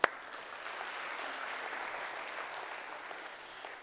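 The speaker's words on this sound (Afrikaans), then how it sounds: "Kom ons gee hom 'n lekker hande klap." An audience bursts into applause after a sharp opening clap, a continuous, even round of clapping that tapers slightly near the end.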